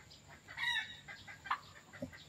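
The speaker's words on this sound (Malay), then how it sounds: "Kalau ayam Belanda bunyi macam tu lah." A female domestic turkey calls near a farm in Gemencheh, giving a few short clucking, rooster-like notes with brief higher squawks, fairly close against a quiet outdoor background.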